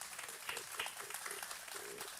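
A church congregation meeting in a home setting breaks into faint, steady applause, a soft continuous patter of hand claps.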